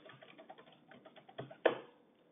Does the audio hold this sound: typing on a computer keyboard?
yes